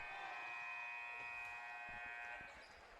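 A long, loud electronic buzzer sounds at the end of the first quarter of a high school basketball game between Struthers and South Range in a gym, holding steady for about two and a half seconds before crowd noise rises.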